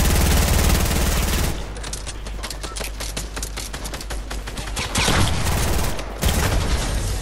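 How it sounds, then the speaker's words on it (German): A grenade launcher fires in a shooter video game as a dense, rapid string of loud repeated shots, with brief pauses and heavier blasts near the end, and no talk over it. "Ich schätze, ich schieße die Granatwerfer."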